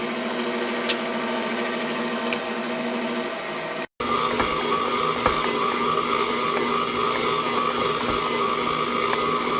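A stand mixer running on its lowest speed with a dough hook kneading focaccia dough, a continuous loud motor hum and whine with faint knocking, cut briefly before resuming steadily.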